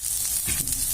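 Bitter gourd fries in hot oil with a constant, bright sizzle and a brief burst of bubbling crackle midway, close up and free of talk.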